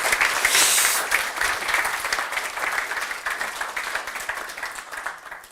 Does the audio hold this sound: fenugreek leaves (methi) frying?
no